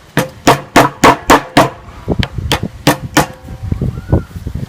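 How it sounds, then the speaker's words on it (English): Sharp metallic hammer taps drive a replacement sight into the dovetail of an M&P Shield pistol slide, a rapid run of loud close strikes followed by lighter, more spaced taps. "you just want to visually hammer it in there so that it's centered"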